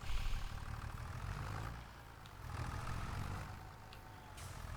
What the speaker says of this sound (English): I wonder if I can push it with the tractor.